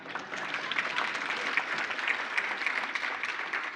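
An audience at a mathematics foundation awards function claps for Professor Jordan, a moderate, even wash of many hands sustained throughout, with a few sharper individual claps standing out.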